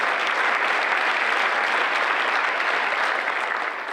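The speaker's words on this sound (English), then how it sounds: "Deborah Gang, Joe Gross, and Tom Schwartz all deserve a huge round of applause for the work that we do" Sustained audience applause at a community art awards ceremony, a dense, even wash of clapping from a crowd that holds steady for several seconds and eases slightly at the end.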